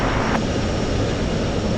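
A heavy Boeing 767 jet departing at Anchorage airport on a windy day, a loud, steady broadband engine roar heard from outside with no voices.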